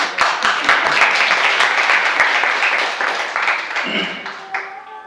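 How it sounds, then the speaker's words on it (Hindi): Audience applause breaks out ahead of a Hindi poetry reading about fathers, a dense wash of clapping filling the room, with a few sharper claps up front and a voice briefly coming in as the clapping thins toward the end. "इस बार तालियां पहले बजा दीजिए"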